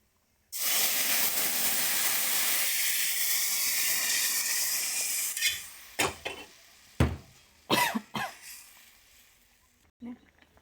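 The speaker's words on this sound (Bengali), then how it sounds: "ডালে ফুটে এসে গেছে" A pot of boiled masoor dal, cooked with salt and turmeric, gives a loud steady hiss and sizzle that breaks off into scattered bursts and taps, with a faint voice near the end.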